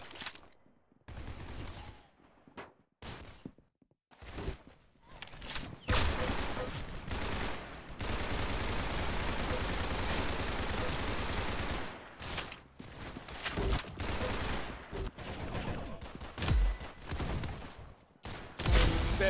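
Bursts of rapid video game gunfire in Roblox Arsenal, with short volleys broken by gaps and then a longer sustained stretch of continuous shooting in the middle.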